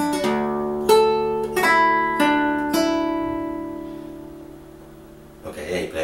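A few plucked notes on fingerstyle acoustic guitar from a piece, measures 6 to 7, four or five ringing attacks close to the mic that decay into a sustained chord, with a faint rustle at the end.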